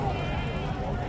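A goat bleats at a crowded livestock market in Dera Ghazi Khan, a steady close bleating call over dense market noise.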